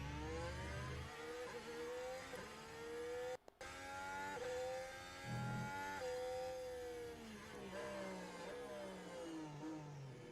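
Formula 1 cars on the formation lap at the Italian Grand Prix, their engines whining and rising and falling in pitch as they pass, steady and moderately distant, with no talk.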